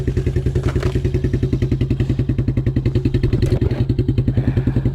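A 1987 Suzuki Quadrunner LT230e ATV engine idles close by with a loud, steady, rapid single-cylinder chug and a faint mechanical clatter throughout.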